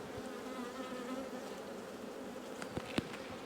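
Black honey bees buzzing at an open beehive during an inspection: a dense, steady hum of many bees, fairly faint, with a few light clicks near the end.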